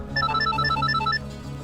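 A telephone rings indoors with a bright, repeating electronic ringtone made of short pulsed tones, loud and close, continuing steadily for nearly two seconds with no talk over it.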